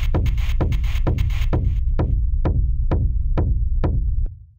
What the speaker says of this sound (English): making my own kick with this method, which sounds like this.